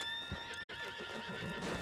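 A horse in Red Dead Redemption 2 gives a drawn-out, quavering neigh with faint hoof clops beneath it, close and clear against a steady game background.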